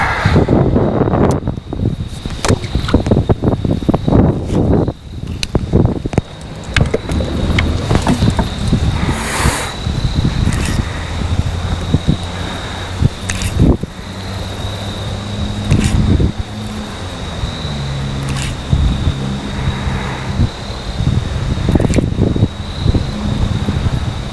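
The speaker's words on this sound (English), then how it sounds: "the wind's hitting me again here, and it is blowing my line pretty hard" Gusty wind buffets the microphone out on a fishing boat on open water, a loud continuous roar with irregular bursts and a faint whistling tone, with no talking.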